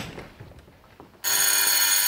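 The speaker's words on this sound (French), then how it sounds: "Excusez-moi, le téléphone." A telephone bell rings loudly and steadily, bursting in abruptly after a stretch of quiet room noise and continuing without pause to the end.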